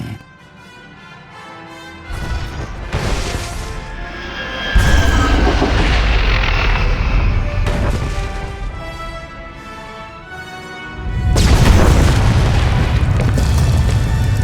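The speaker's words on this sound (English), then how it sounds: "Proceed with the detonation" A massive detonation of the Gauntlet ship in Star Wars: The Old Republic, with heavy rumbling booms that surge in waves, a second large blast near the end, loud and sustained with rolling low-end debris noise.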